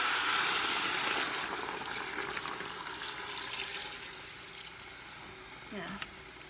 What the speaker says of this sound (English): And now I'm going to add water to cover. Cold water.